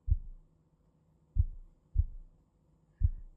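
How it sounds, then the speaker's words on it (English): Soft, low thumps of a tiny drum beaten in a slow heartbeat-like rhythm: four muffled beats with uneven gaps between them, close and gentle, with nothing else behind them. "A tiny drum makes a soft sound."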